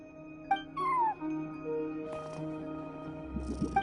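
A cat meows a few times at a front desk in Genshin Impact, short clear mews over a quiet in-game backdrop of soft tonal hum, with a faint rustle near the end.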